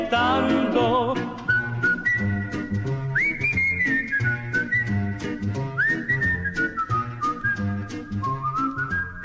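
Melodic whistling in an Italian song by a baritone, a clear bright tune of sliding and held notes over a rhythmic plucked accompaniment, loud and close with no voice.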